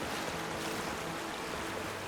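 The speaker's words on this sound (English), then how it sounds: "Is this a waterfall? I think this is a waterfall." Steady broadband rush of a waterfall in the video game Avowed, a continuous roaring wash of water with no pauses, heard alone at moderate level.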